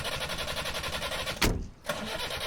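A car engine turns over with a sudden loud burst, briefly dropping before settling back into a steady rhythmic hum, with no voices.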